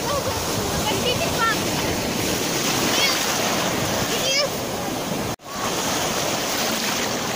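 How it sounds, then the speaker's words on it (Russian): Sea waves and surf roll in continuously on the beach at Anapa, with a loud, dense wash blended with wind noise and a brief dropout partway through. "Сегодня чудесное море."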